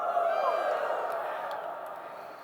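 Audience at a centennial event whooping and cheering, a bright crowd roar that starts loud and slowly fades over a couple of seconds.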